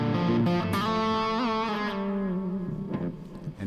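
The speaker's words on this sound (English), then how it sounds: "What you're hearing right now is the dulcet sounds of a full drive 3" Electric guitar driven through a Fulltone Full-Drive 3 overdrive pedal on its 90s setting, giving a sustained, distorted tone with ringing chords and bends that stays loud and continuous throughout.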